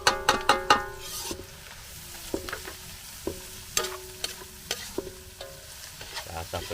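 Banana heart with freshwater shrimp in coconut milk sizzles in a pan and is stirred, giving a crisp metallic clatter of a utensil in quick strokes, first in a rapid burst and then in sparser scrapes over a steady frying hiss.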